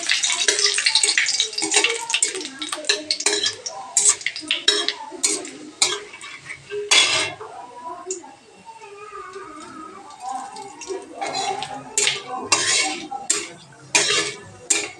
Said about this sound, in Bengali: তেল গরম হয়ে গেছে, দিয়ে দিচ্ছি কালো জিরা, শুকনো লঙ্কা আর তেজপাতা।